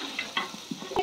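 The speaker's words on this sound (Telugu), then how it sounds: "మటన్ మొత్తం నీట్గా కలుపుతున్నాము." Marinated mutton being stirred in a pot for biryani, giving a brief sequence of soft scraping and sloshing strokes over a faint sizzle, close and fairly quiet, with no talking.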